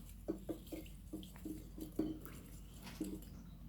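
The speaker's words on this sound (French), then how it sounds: "Je rajoute un peu d'eau comme ça. Et puis, je remue." Water is stirred into a homemade serum in a small glass, giving soft, faint clinking and swishing taps in a quick irregular rhythm, close up and quiet.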